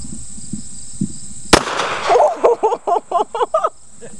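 A single sharp, loud shot from a Ruger gun cracks out close by after a few faint knocks, followed by a voice speaking in short bursts.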